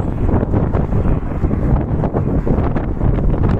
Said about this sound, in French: Par contre, c'est venteux.